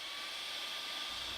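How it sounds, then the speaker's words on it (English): Heat gun blowing hot air steadily onto a crack in a nylon gun stock during repair, a constant broadband airy whoosh with no breaks, close and fairly quiet. "with a heat gun or a hairdryer, we're going to heat the crack for 1 minute"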